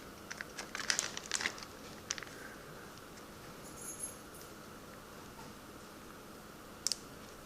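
Plastic freezer bags being handled and crinkled in a kitchen while making vegetable broth, with a cluster of soft rustles and crinkles early on, quieter handling noises, and one more brief crinkle near the end. Faint, with no talking.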